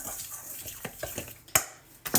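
A spoon knocks and scrapes around a bowl of flour and baking powder in short uneven strokes, with a couple of sharper clinks near the end.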